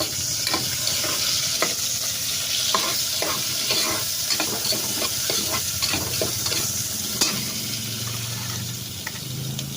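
Onion goes into a hot frying pan and is stirred, giving a continuous loud sizzle with repeated scraping and clinking strokes of the utensil through the oil, steady throughout with no talking.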